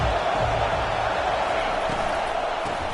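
A steady, dense roar from a college football stadium crowd in a CF25 video game as the defense pins the opponent deep in their own end, loud and continuous with no distinct cheers standing out.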